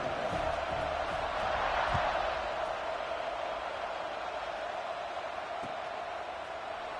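A stadium crowd in a college football video game hums as a distant, steady murmur of many voices before a kickoff, soft and even throughout.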